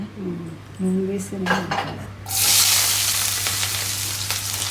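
Dal fries in oil in a home kitchen pan, starting with clinks of utensils and short tones before a loud, close sizzle rushes up and keeps hissing steadily.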